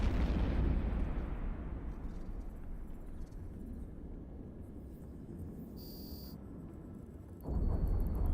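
Scout accelerator cannons fire in EVE Online space combat, a continuous heavy roaring barrage of booming blasts with a brief high tone partway through and a renewed loud burst near the end.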